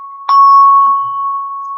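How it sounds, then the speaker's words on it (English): A single meditation bell is struck once and rings out with a clear, sustained pure tone that slowly fades over the following seconds, close and alone. "And I'm going to ring the bell to come back."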